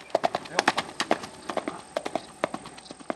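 Horse hooves clip-clop at a steady walking pace on a long-distance ride, with crisp, close, irregular hoof strikes and some softer scuffs in between.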